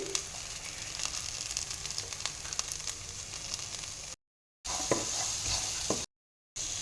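Cluster beans frying with garlic and salt in a pan, a steady close sizzle and crackle with light stirring scrapes, briefly cut to silence twice near the end.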